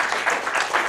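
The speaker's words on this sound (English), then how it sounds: "a round of applause for yourselves" A room of filmmaking workshop participants gives a round of applause, a dense, steady wash of many hands clapping close by through the whole brief moment.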